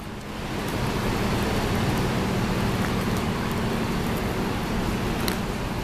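Steady rain falls on a New York City street on a cold day, a dense, even hiss that holds without a break from start to finish.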